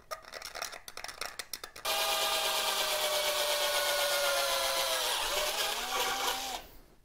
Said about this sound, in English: now that I got the holes drilled